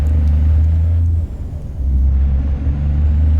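Heavy International Lonestar lift truck hauling a super heavy load, its engine laboring with a loud, steady low rumble that dips briefly before surging back up, close and continuous with no talk.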